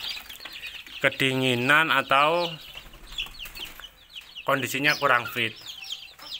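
Chickens on a poultry farm cluck and call in bursts against steady farmyard background noise, with someone talking over parts of it.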